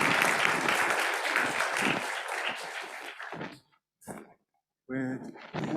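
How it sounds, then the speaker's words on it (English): Audience applause at a health and care workforce event, a dense crowd clapping loudly for about three seconds before fading out, followed by brief scattered noises and a burst of speech. "Give them a round of applause, people."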